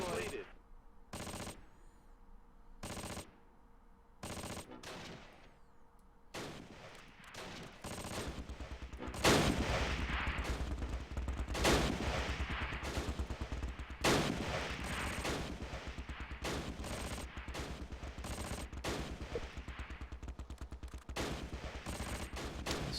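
Gunfire in Close Combat Last Stand Arnhem, isolated shots at first, then a dense, sustained crackle of machine-gun bursts and rifle fire with a booming impact, under a low continuous rumble.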